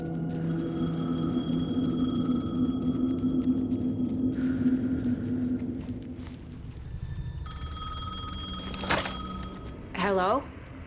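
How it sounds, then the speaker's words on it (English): Payphone in the video game Alan Wake 2 rings with a steady electronic tone over a low droning ambience; later a second ring pattern sounds, with a brief click and a warbling sweep near the end. "The payphone was ringing."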